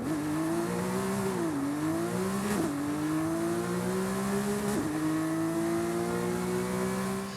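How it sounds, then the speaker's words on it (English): Porsche 911 GT3 RS with a 4-litre engine in Forza Horizon 5, revving loudly and alone: a sustained high engine note climbing, dipping twice with quick throttle blips, then rising steadily again. "let's go ahead and take a listen to that 4-litre engine"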